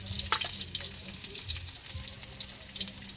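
Garlic frying in a hot pan, a close, steady crackling sizzle with light stirring scrapes over a low background hum.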